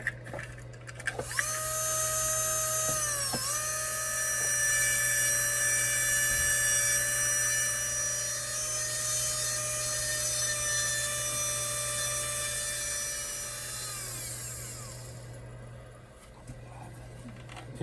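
A high-pitched rotary tool whines steadily while carving the eye of an eel into a blade converted from a hatchet into an eel-splitting knife, its pitch dipping briefly as it bites into the steel, then dying away near the end.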